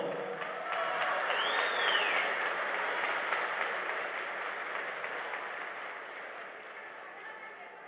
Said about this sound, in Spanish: la ministra Carolina Corcho, para quien pido un aplauso, por favor.